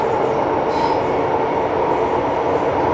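A crowded train rumbles steadily along the rail line in a constant loud drone heard from inside a carriage, with faint rattling of the wagon and no speech.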